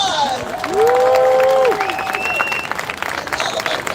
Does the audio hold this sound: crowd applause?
yes